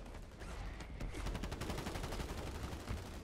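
Rapid gunfire rattles down from above in Call of Duty Warzone, a fast, steady fusillade of shots that fills the clip at moderate loudness.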